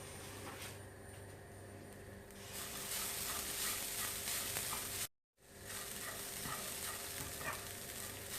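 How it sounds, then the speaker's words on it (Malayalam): Chopped onion frying in a pan over medium heat for a yam curry, a steady close sizzle with soft stirring scrapes, interrupted by a brief cut of silence midway. "ഈ അരിഞ്ഞു വച്ചേക്കുന്ന സവാളയിൽ നിന്ന് ഒരൽപ്പം എന്നിവ ചേർത്ത് നമുക്ക് നന്നായി വറുത്തെടുക്കാം."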